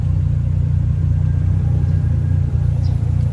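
A motorized tricycle rides along a road in Japan, its engine giving a steady, loud low rumble close by without a break.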